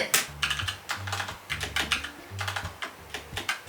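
Clacky mechanical keys on an ROG Strix Scope NX Wireless Deluxe keyboard are typed in quick, uneven bursts, close and crisp, with short pauses between flurries.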